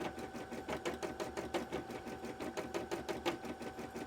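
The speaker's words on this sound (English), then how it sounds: "So we have the embroidery machine running while I'm eating" An embroidery machine runs steadily at a cosplay crafting session, its needle hammering in a fast, regular rhythm over a constant motor hum, fairly close and with no talk.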